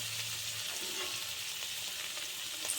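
Paneer pieces fry in refined oil, giving a steady, close sizzle and crackle with small pops. It runs evenly through the moment with no talking.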